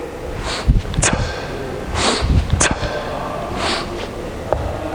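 Quick, forceful breaths drawn sharply through the nose during a kettlebell swing workout, several short bursts spaced about a second apart with no one speaking.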